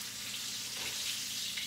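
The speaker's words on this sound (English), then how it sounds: "Do y'all hear that sizzling?" Quiet, continuous sizzling and crackling of turkey ribs frying in hot oil, steady throughout with no voices.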